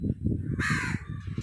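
A crow come to take dog food caws once, loud and close, standing out over a steady background of low rumbling noise.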